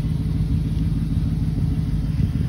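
A 2007 Toyota Tundra two-wheel-drive pickup with dual exhaust idles steadily, a deep, even low rumble close by with no revving, running alone without talk.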